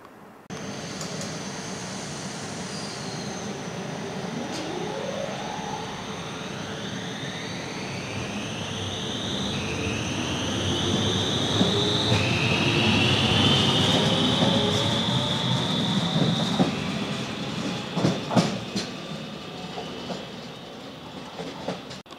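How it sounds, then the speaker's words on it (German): An SBB Nina electric multiple unit departs Iselle di Trasquera station toward Domodossola, its rising electric motor whine sweeping upward in pitch over a rumbling rolling hum that swells and then eases, with wheel clatter near the end. "Mit der Abfahrt dieses Nina-Triebzuges in Richtung Domodossola"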